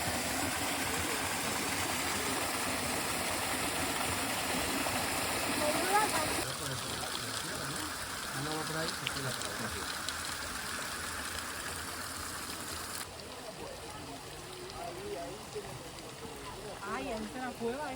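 Water cascading down stone steps on a nature walk, a steady broadband rush that continues throughout, with people talking over it.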